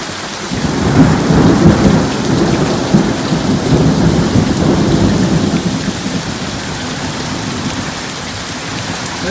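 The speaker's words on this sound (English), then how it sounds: "I'll put some footage of the storm last night right here." Heavy rain pouring steadily during a nighttime thunderstorm near a backpacking tent, with low rolling thunder rumbling under the loud, continuous downpour.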